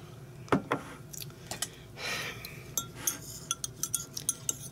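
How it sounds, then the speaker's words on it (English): A knife is run around a keto hamburger bun inside its container, giving scattered light scrapes, clinks and taps of metal against the dish, close and quiet, spaced irregularly with a short rustling scrape midway. "I'm going to run my knife around this"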